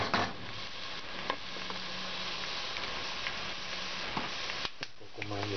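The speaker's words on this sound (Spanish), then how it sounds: "Para que poche bien, para que cocine bien nuestra cebolla junto al ajo" Chopped onion and garlic sautéing in oil for a Peruvian tripe cau-cau, giving a steady soft sizzle with occasional stirring scrapes and clicks of a utensil against the pan.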